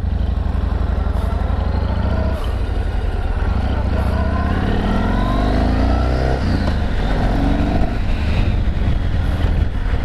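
A Yamaha MT01 1670cc motorcycle engine revs and accelerates up close, loud and continuous, with rising pitch sweeps partway through.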